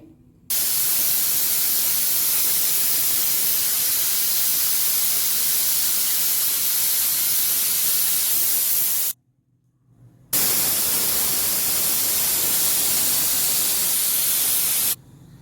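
A pressure cooker whistle, cooking ivy gourd curry on high heat, blasts as a loud, steady hiss for several seconds, breaks off briefly, then resumes at full force.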